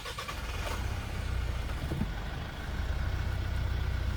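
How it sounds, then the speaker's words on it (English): A 2025 Mitsubishi Triton GL 4WD pickup starts with a key: a brief cranking catch, then the engine settles into a steady low idle rumble that swells slightly toward the end, close by and without talk. "Now, to start the engine, just put your foot on the clutch"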